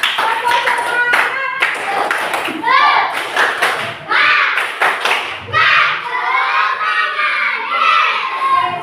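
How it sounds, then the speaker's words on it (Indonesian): Schoolchildren clap together in a classroom, a loud burst of rhythmic hand claps mixed with shouting kids and bursts of cheering, under the teacher's voice. "Tepuk tangan untuk kita semua. Tepuk semangat."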